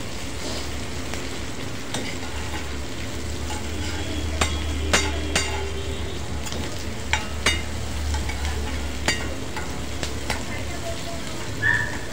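Cashew masala sautés in oil in a home kitchen with a steady, moderately loud sizzle, as a spoon scrapes and taps against the pan every so often. A low background hum runs underneath and a voice can be heard faintly.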